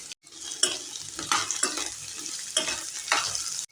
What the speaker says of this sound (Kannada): ಒಂದು 2 ನಿಮಿಷ ಈರುಳ್ಳಿ ಎಲ್ಲ ಹುರ್ಕೊಂಡ್ರೆ ಸಾಕು.